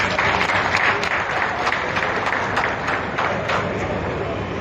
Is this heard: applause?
yes